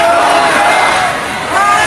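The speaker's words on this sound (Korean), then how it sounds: "환호를 하고 있습니다" Supporters gathered at a rally outside Park Geun-hye's residence roar and cheer in a dense, continuous mass of voices, loud and close, swelling slightly near the end.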